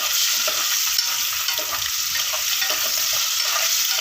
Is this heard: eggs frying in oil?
yes